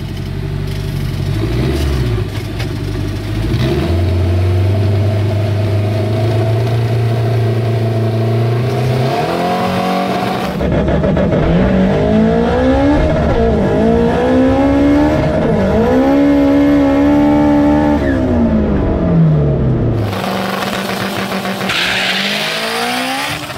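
A drag race car powered by a stock Honda K20/K24 engine makes a night pass, idling and revving before launching hard, then screaming up through several gear shifts, loud and sustained with tire noise at the start.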